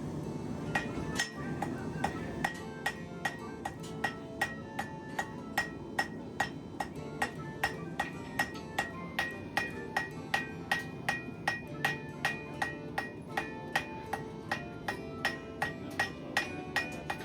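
Metal is hammered on an anvil at a Renaissance fair in a steady series of bright, ringing clangs, slow and evenly spaced over a low background rumble.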